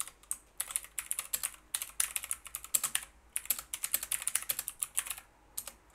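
Someone touch-types on a UK-layout computer keyboard, making quick bursts of close, crisp key clicks with short pauses between words. No voice is heard.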